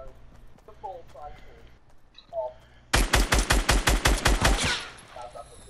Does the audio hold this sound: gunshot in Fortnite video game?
yes